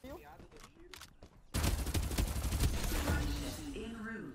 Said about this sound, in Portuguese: Um tiro, outro, Fábio. Um tiro, outro